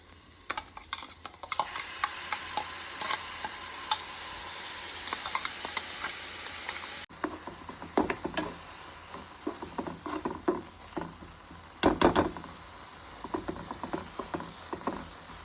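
Oil, cumin and onions fry in a pan for egg roll stuffing, a steady close sizzle broken by repeated scraping stir strokes and sharp clicks of a spoon against the pan.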